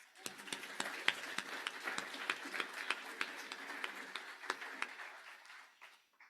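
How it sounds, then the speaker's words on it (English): An audience at an interfaith forum applauds the panelists, steady clapping from a room of people that runs several seconds at moderate distance before tapering off. "Let's give them all a round of applause."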